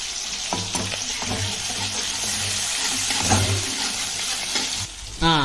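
Onions and tomato frying in a pan: a loud, continuous sizzle with bubbling and stirring scrapes throughout, and a sharper hiss flaring up near the end.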